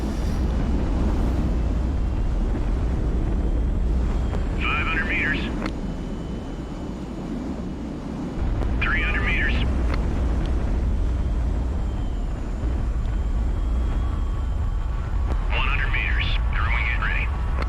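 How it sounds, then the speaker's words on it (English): Reverse thrusters on an airship-style vessel landing in the strategy game HIGHFLEET, a steady loud low roar that fills the scene throughout, with short electronic chirps cutting in a few times and voices speaking over it. "Fire reverse thrusters."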